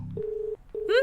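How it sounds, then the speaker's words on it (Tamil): Telephone ringback tone on an outgoing call, two steady electronic tone bursts separated by a brief gap, clear and close, with a voice starting at the end. "ரிங் போகுது."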